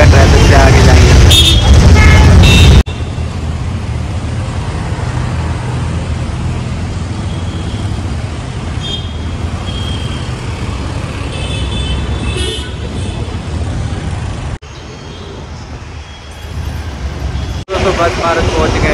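Busy roadway traffic in India near the Nepal border, with continuous engine rumble from cars and buses and a burst of loud horn toots at the start, with people talking over the traffic.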